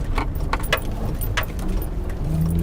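A Cadillac Escalade rolls over rough off-road ground. Its engine rumbles low under loose rattles and jangling clicks from inside the cabin.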